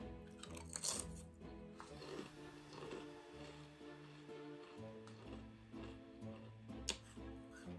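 Cheetos Flamin' Hot Dill Pickle chips being crunched and chewed close to the mic, a few sharp bites followed by quieter chewing, with background music underneath.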